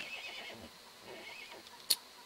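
A horse in the block-building game Block Story gives soft, low whinnying calls at moderate volume, followed by a brief sharp click near the end, with no talking over it.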